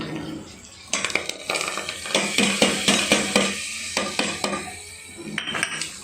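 Curry leaves and red chillies hit hot oil for a Sindhi-style dal chawal, bursting into sharp sizzling crackles with clinks and scrapes of a utensil against the pot, close and fairly loud.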